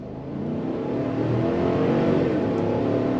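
A 6,000-pound 2025 Chevrolet Suburban with a 10-speed transmission accelerates from a dead stop, its engine giving a steady, loud, building drone with no voices over it.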